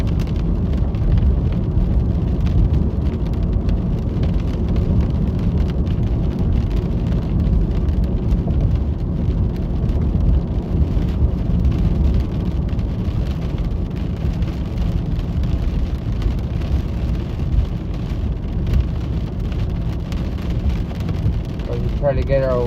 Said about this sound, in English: Starting to get some heavy patterns of rain here.